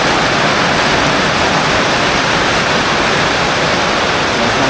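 Heavy rain pours down steadily, a loud, dense, unbroken hiss that stays constant throughout with no voices.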